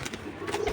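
Pigeons coo softly in a loft or cage where red-eyed racer and giribaj pigeons are kept, low and muffled under a murky background hum.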